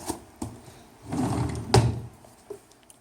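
A drawer slides open with a short scraping rumble, framed by a few light knocks and clicks, fairly quiet and close.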